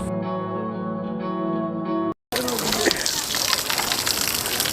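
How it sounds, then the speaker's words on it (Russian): Water splashes and gushes steadily from an outdoor beach shower at Ölüdeniz, Turkey, a close, broadband rush that follows a brief musical tone and a sharp cut, with a voice speaking briefly over it. "Душ."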